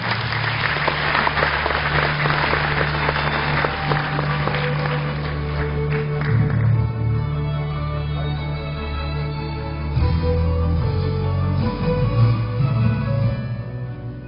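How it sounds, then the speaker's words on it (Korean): Crowd applause at a 2013 university entrance ceremony greets the student council president, loudest at first then thinning, over a steady low tonal hum or music bed. "여러분 큰 박수로 맞이해 주시기 바랍니다."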